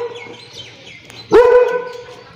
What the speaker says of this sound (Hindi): अब मैक्स भौंक रहे हैं